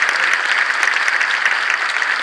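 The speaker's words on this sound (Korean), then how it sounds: "뜨거운 박수" A church congregation applauds at an anniversary and ordination thanksgiving service, producing a loud, dense, continuous roll of clapping throughout with no voices over it.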